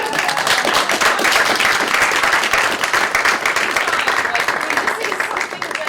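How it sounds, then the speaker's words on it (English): A lecture audience at a college event gives a dense, sustained round of applause, many hands clapping together at steady volume for several seconds before it thins slightly at the end. "Can we get a round of applause?"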